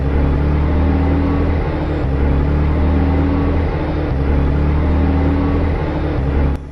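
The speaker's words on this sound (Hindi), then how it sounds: "हमारी गाड़ी खुद ब खुद चालू हो गई है।" Car engine in a cartoon horror story runs with a loud, steady low rumble and a rhythmic droning hum as it drives along, continuous before cutting off abruptly at the end, with no talking.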